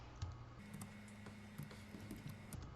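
Code being typed on a computer keyboard: quiet, irregular clicking keystrokes in a close, otherwise still room with a faint steady hum.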